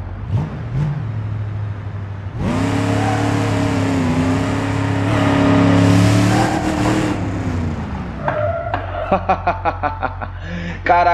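Powerful upgraded car engine in BeamNG.Drive revving hard, a loud sustained roar that rises and holds for several seconds, then drops to idle with quick blips of the throttle.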